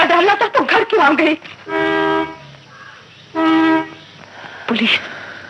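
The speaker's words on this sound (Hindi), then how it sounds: "जिस आवाज को मां ने पुलिस की गाड़ी का हॉर्न समझा था" A car horn from a 1948 film sounds twice as long steady blasts, set between stretches of someone speaking Hindi.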